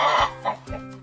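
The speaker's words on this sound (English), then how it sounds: "Chicken." A chicken clucks in a quick run of short, close, throaty calls in a children's animal-sounds song, with faint music beneath.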